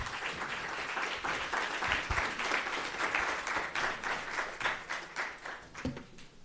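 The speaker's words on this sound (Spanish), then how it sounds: "Demos un aplauso de bienvenida" A welcoming round of applause from the audience at a computational creativity colloquium, many hands clapping steadily for several seconds before tapering off near the end.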